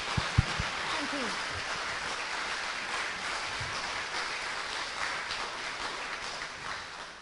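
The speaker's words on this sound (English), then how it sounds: "So I think everyone clap, but we'll clap you once more." An audience at a European Association of Science Editors gathering claps steadily, a dense wash of applause lasting several seconds, with a voice speaking briefly near the start.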